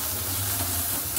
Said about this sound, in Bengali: তো এইটা ভাজা হচ্ছে, এর মধ্যে দিয়ে দেবো নুন আর হলুদ